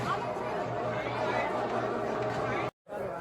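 A busy temple crowd in Gangapur fills the air with a dense, continuous babble of many overlapping voices, broken by a brief silent gap near the end.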